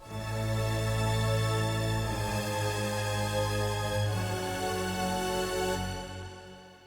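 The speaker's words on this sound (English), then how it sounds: "one of the main things in the drop here are the strings, a really important part, and they sound like this" Violin strings play sustained chords an octave up in an epic trailer soundtrack drop, processed with EQ and OTT compression, swelling full and dense with no voices for several seconds.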